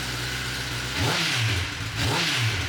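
A stock 2023 Kawasaki ZX-10R sport motorcycle engine idles steadily, then revs up twice in quick short bursts, the pitch rising and falling each time, close and fairly loud.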